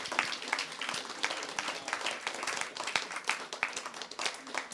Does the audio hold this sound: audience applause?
yes